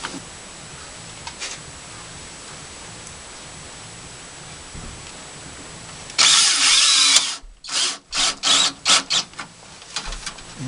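Power drill driving screws while a gas furnace is wired to a generator: a steady whir runs for about a second, then several short, loud, closely spaced bursts follow after quiet room tone.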